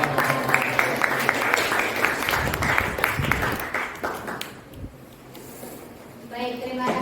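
An audience claps after a group presentation at an academic coaching and supervision session, a steady wash of applause lasting several seconds before fading, with a voice speaking briefly at the end.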